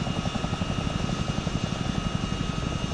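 Helicopter in flight in the video game Arma 3, a steady loud rotor thrum with rhythmic blade chopping and turbine whine, continuous and close, with no talk.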